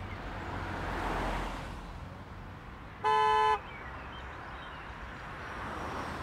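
City street traffic with cars passing and a short car horn toot sounding once in the middle, over a steady roadway rumble with no voices.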